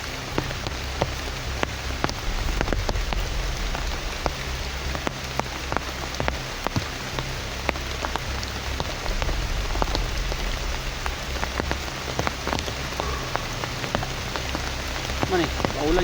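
Heavy rain pours steadily onto surfaces, a dense continuous hiss with scattered sharper drop impacts and a low rumbling undertone, close and unbroken throughout.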